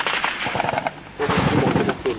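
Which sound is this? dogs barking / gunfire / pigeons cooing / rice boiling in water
gunfire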